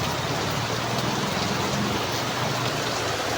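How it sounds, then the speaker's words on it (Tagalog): Heavy rain pours in Lopez, Quezon on a May afternoon, a dense steady hiss of drops on surfaces that is constant and enveloping, with no voices. "Lakas ang ulan, oh."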